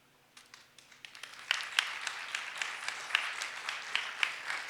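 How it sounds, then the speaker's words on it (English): Audience applause at a public commission meeting, a steady patter of many hands that swells after a quiet start and continues evenly without any voices. "join me once again for a round of applause"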